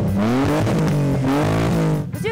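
A car fitted with a loud, free-flow aftermarket exhaust roars close by in rapid revving bursts, its pitch climbing and dropping in quick waves for a couple of seconds, with no talking over it.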